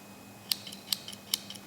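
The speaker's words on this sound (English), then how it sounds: "the large Victorinox scissors" Large Victorinox scissors snip three times in a quiet room, each cut a sharp, close metallic click spaced about evenly, with faint softer clicks between them.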